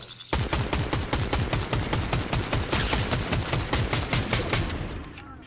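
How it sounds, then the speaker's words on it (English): Rapid automatic gunfire in Fortnite, a loud, steady stream of closely spaced shots repeating almost without pause for several seconds before tapering off at the end. "Somebody's shooting. Somebody's shooting."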